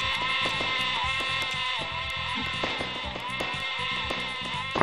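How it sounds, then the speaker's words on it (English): Sheep bleat repeatedly in the video game Lemmings Paintball, a loud overlapping chorus of cartoonish bleats over a bright, looping synthesized game tune with a steady beat. "I apologise for the sheep noises."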